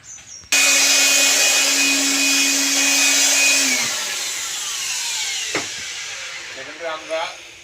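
An electric wall sanding machine grinds plaster on an interior wall. It starts abruptly with a loud, steady whirring hiss and a thin whine, winds down after about four seconds, then leaves quieter rubbing noise and a brief voice.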